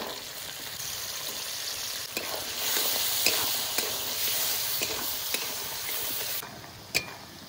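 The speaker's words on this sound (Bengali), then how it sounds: "আলু একটু ভেজে নিয়েছি" Potatoes and slit green chillies fry in fish oil in a kadai, a constant close sizzle broken by sharp scraping clicks of a spatula stirring every second or so.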